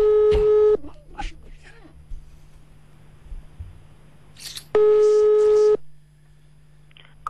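Telephone tones from a call placed live on a radio show: two steady electronic ringback tones, one at the start and one midway, with a presenter's talk and studio noise in between.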